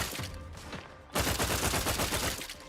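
A weapon fires repeatedly in The Outer Worlds 2, with each shot releasing two rounds. After a softer passage, a loud, rapid stream of close gunshots sets in and continues to the end.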